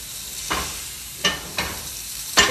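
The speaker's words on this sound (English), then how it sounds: "So I seared it on one side, and now I'm doing the exact same thing on the other side" Chicken breast searing in oil in a cast iron pan, with a steady sizzle beneath four sharp scraping or turning clatters spaced across the moment, close and fairly loud with no talking.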